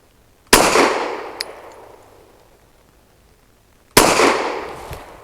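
A Saricam S19 9mm pistol fires Fiocchi Defense Dynamics 147-grain hollow points at a range: two sharp, loud, close reports about three and a half seconds apart, each ringing out and decaying, with no talk.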